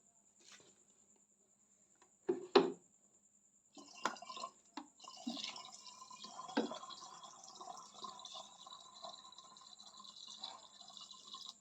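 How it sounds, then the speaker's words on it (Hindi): Water being poured into the cells of a battery: a short burst of splashing and trickling, then a steady stream of soft dripping and pouring that runs alone at close range. "इसमें पानी डालेंगे।"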